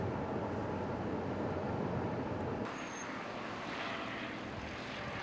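An airplane cruising over the snowy Himalayas on a five-hour flight from Beijing to Tibet, a steady broadband engine roar heard from inside, continuous and even, easing slightly in level partway through.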